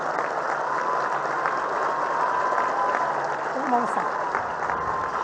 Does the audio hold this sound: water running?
no